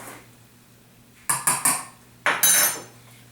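A fork clinks against a bowl in two quick bursts of metallic tapping while dry baking ingredients, including baking powder, are stirred together, close and fairly quiet.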